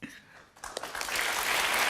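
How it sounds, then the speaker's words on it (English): Studio audience applause on a televised Question Time debate about knife crime, starting as a few scattered claps and swelling into steady, broad clapping that fills the room by the end. "What's the clapping for?"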